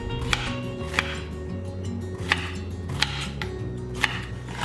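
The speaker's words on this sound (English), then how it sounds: "We'll also dice up our squash." A knife dices fresh-picked squash on a cutting board, with sharp, regular chops about once per second over a faint low hum.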